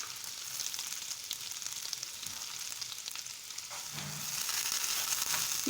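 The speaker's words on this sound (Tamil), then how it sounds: "நல்லா வதக்கி விட்டுக்கோங்க." Chopped beans and carrots sauté in a pan with oil for mushroom garlic fried rice, giving a faint, steady sizzle with a few soft stirring scrapes and no talking.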